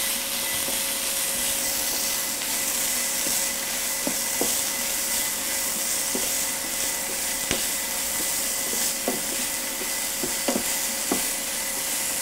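Caramelizing apples with corn and chopped parsley sizzle in a pan in a steady hiss while a spoon stirs them, leaving scattered faint clicks and scrapes.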